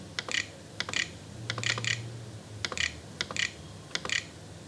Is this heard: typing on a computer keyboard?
yes